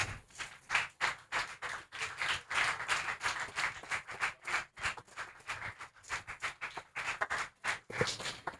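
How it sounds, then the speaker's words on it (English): An audience at a real estate sales training event applauds continuously, a dense patter of many hands clapping at close range with no voices over it. "With a resounding applause and a standing ovation, please let's make welcome Mr. Olukende."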